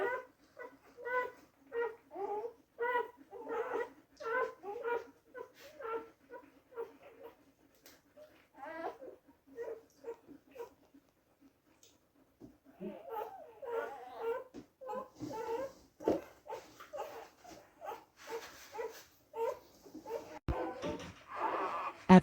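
A newborn puppy whimpers and squeaks in a rapid, regular series of high cries, then breaks into more ragged, irregular whining, close and fairly faint in an otherwise quiet room.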